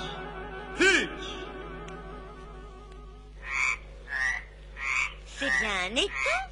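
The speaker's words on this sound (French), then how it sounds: "Non, ce sont des grenouilles." Frogs croak at the edge of a pond in a short series of repeated, loud, nearby calls, the first one alone and then several in close succession, with a steady background hum beneath them.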